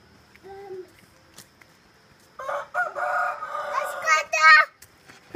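Rooster crowing at a rural smallholding, a loud, close, drawn-out crow in the second half after a short quiet call earlier, with children's voices nearby.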